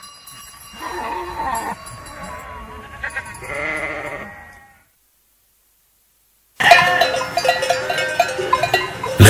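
Penned sheep bleat over a jangle of bells, fading into near silence, then a burst of many bells and bleats returns loudly.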